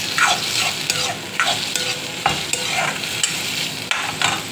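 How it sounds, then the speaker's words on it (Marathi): Onion and tomato frying in a pan and being stirred, with a steady close sizzle and repeated scraping strokes of a spoon every second or so, no talking. "मी त्यात आता टाकतो टमाटर टाकले, टमाट्याला मिक्स करून घेऊया"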